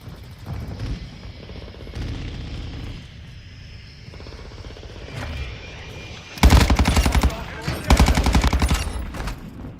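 Automatic fire from a Cronen Squall rifle in Call of Duty: Modern Warfare II, with loud rapid full-auto bursts that follow quieter game ambience and a helicopter-like rumble.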